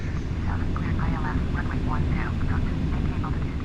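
A Boeing 707 jet in Microsoft Flight Simulator X drones with a steady, loud engine roar throughout, with someone talking over it.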